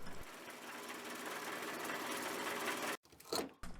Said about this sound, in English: I'm making some real clean cuts on this tenon